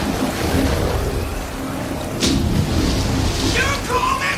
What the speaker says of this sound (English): You call this a storm?